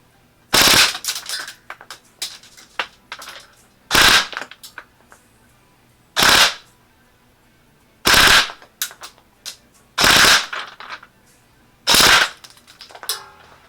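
Lancer Tactical M240 airsoft machine gun, an electric AEG on an 11.1 V LiPo battery firing 0.20 g BBs, rattles out six sharp, loud bursts at roughly two-second intervals, with faint clicks between them.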